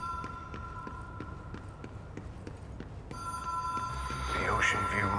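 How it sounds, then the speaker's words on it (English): Telephone ringing in the video game Control, a repeated electronic bell tone pulsing steadily over low rhythmic game ambience and footsteps, growing louder and closer partway through. "I can hear a phone ringing, so it's gotta be pretty close."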